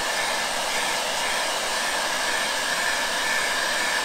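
A hair dryer on high heat blows steadily onto a baseball cap, a loud, constant close-up rush of air with a faint whine, no voices.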